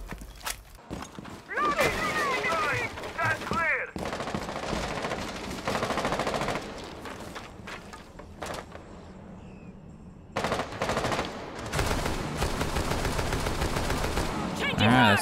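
Tubarao's gun in Rainbow Six Siege firing in rapid automatic bursts, loud and close, broken by short pauses, with footsteps between bursts and a player talking over the action.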